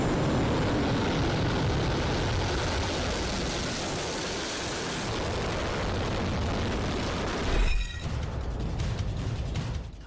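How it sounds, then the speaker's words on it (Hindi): Several US fighter jets, F-22, F-35, F-16 and F-15, roar past as one loud, sustained jet rush that holds steady for about eight seconds, then gives way to a sharp mechanical burst and a rougher, broken rumble. "और इसमें F-22 के साथ F-35, F-16 और F-15 फाइटर जेट भी शामिल हो रहे हैं।"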